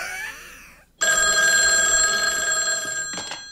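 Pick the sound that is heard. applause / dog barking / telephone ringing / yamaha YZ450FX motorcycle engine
telephone ringing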